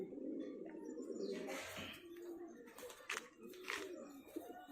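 Highflyer pigeons at a pigeon keeper's loft in Nagpur, cooing softly nearby with low, rolling coos and a few faint chirps, in a quiet setting with light background noise.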